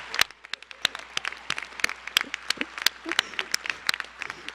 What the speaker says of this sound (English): Please join me once again in a round of applause for all our new inductees.